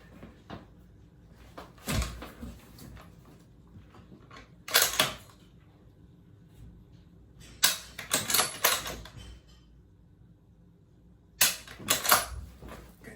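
Precision rifle dry-fire drill: sharp, close trigger snaps and bolt-cycling clicks come in short clustered bursts separated by quiet pauses, with no talk over them.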